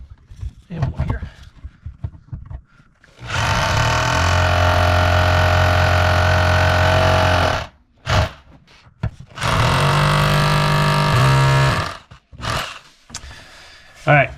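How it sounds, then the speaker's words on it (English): Heavy-duty hammer drill boring into concrete, two loud sustained runs of several seconds each with a harsh grinding whine, separated by short pauses with faint handling sounds and brief speech around them. "that's with the hammer drill for the concrete one, heavy duty one"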